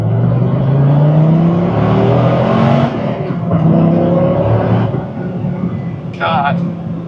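A 2006 Dodge Viper SRT-10 with a manual gearbox accelerates hard from inside the cabin. The loud engine note climbs in pitch through the revs, dips briefly as if between gears, then pulls again.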